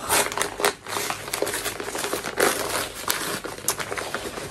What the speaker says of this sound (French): J'ai reçu 2 colis, donc on va les ouvrir ensemble.